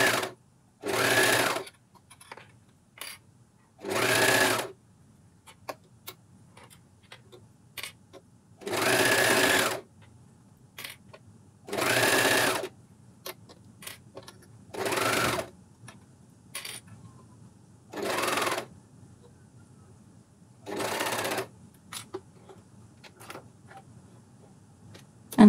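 A Juki MCS1500 coverstitch machine sews necklines and armholes in about nine short bursts of rapid whirring stitching, separated by quiet pauses with faint clicks and handling.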